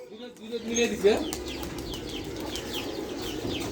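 Pigeons flutter and flap their wings close by while soft cooing and chirps rise over a steady background, with a voice talking briefly near the start.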